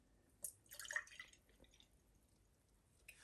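Oat milk poured into a container at a taste test, heard as a short run of soft liquid splashes and drips near the mic, loudest early and then fading to quiet.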